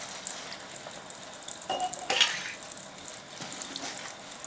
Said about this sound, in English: And then I'll rinse them once I'm done soaping everything.